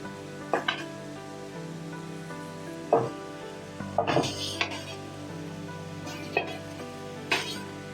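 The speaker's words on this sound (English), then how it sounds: "I'm going to fry the pork meat on high heat for at least 5 minutes." Marinated pork sizzles over high heat in a cooking vessel for a pepper pork roast, a constant frying hiss with occasional scraping and clinking as it is stirred.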